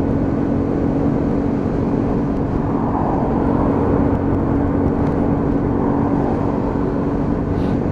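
A Lexmoto Venom 125cc motorcycle pulling out into road traffic, its steady loud engine drone and road rumble filling the whole stretch without any speech.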